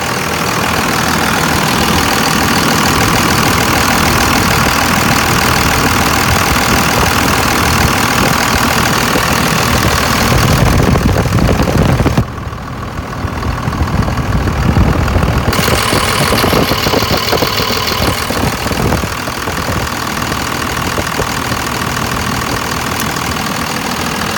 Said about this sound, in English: This truck runs so nice.